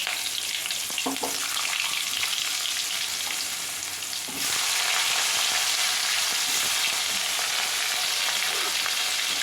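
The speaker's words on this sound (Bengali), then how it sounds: "দেওয়ার পরে আমি এই ছোট ছোট করে কেটে রাখা বেগুনের টুকরোগুলোকে দিয়ে দেবো" Small eggplant pieces hit hot mustard oil seasoned with turmeric, making a close, hissing sizzle that swells noticeably louder about halfway through and stays intense, with faint stirring knocks and no talking.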